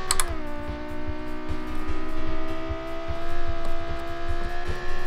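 A V10 engine in the BeamNG driving game revving past 9,000 RPM, holding a loud, steady high-pitched whine that climbs briefly at the start, close and continuous with no talk.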